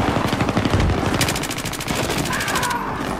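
Rapid automatic gunfire in the video game Battlefield 3, loud and close, with a steady rattling rhythm of shots running through the whole clip.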